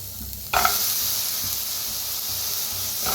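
Eggplants roasting in a pan give a steady, close hiss and sizzle that jumps louder after a brief quieter start, with faint stirring underneath.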